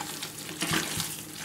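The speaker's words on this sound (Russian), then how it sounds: "чтобы фаршик хорошо заползал в кишки, я добавляю сюда ледяную воду" Ice water splashes into sausage mince for barbecue sausages, a short close pour with a brief louder burst of splashing in the middle.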